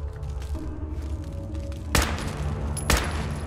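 Gunfire in Fallout 4: two loud, sharp shots about a second apart over a steady low game background hum.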